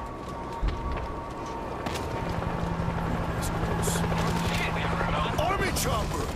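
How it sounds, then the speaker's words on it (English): An army helicopter flies overhead amid bursts of gunfire in the zombie shooter game World War Z Aftermath, a steady rotor drone over dense, continuous battle noise with a low hum running underneath. "Helicopter's landing across the river!"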